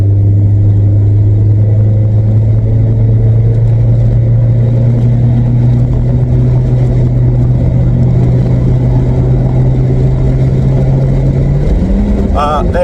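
An abandoned Volkswagen Vento's engine idles with a steady low drone while the driver tries to shift gears, and its pitch rises briefly near the end as the revs climb.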